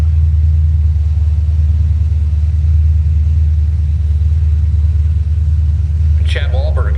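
A Chevrolet El Camino drag car sits at Woodburn Dragstrip with its engine running: a loud, deep, steady low rumble throughout, with a brief voice near the end.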